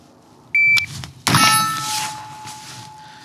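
A shot timer gives a short electronic beep, then a loud Smith and Wesson Sport III rifle shot rings a steel target about 15 to 18 yards away, the metallic ring fading slowly.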